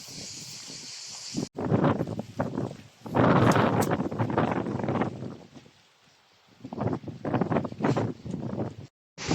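Strong gusts of wind roar and buffet against the microphone in bursts, swelling and dropping away, loud and rough, with no voices.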